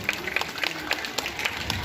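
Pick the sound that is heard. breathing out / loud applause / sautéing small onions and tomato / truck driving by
loud applause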